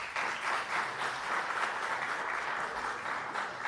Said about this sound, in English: Let's give them again a well-deserved round of applause.